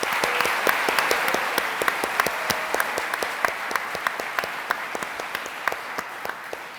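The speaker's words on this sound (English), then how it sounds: "Round of applause." Steady applause from a livestreamed awards-celebration audience greeting a finalist team, many crisp individual claps standing out over a continuous wash of clapping that gradually thins.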